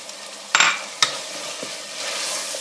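Garlic and tomatoes fry in a pan on a home stove for Tunisian hlalem, a loud sizzle with two sharp bursts as ingredients hit the hot oil, settling into a steady frying hiss with stirring.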